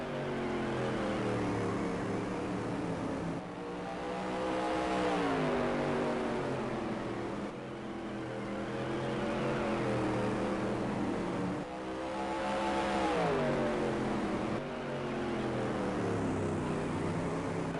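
Supermodified race cars in a sim racing game sweep past in waves, their high engine whine rising and falling in pitch as the pack approaches and passes, loud and continuous with no talk.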